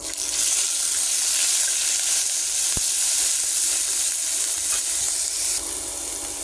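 Onions frying in hot oil with cumin and panch phoron, a loud, continuous hissing sizzle close by, with a single sharp tap partway through.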